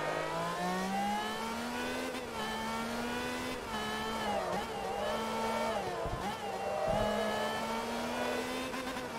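Ferrari race car engine in Forza Motorsport 3 screams steadily at high revs, pitch climbing through gears with brief dips at shifts, loud and continuous without talk.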